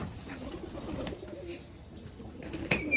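Pigeons in a rooftop loft coo softly and faintly among a flock of about fifty birds, with low murmured calls over background hiss and a few brief clicks and rustles.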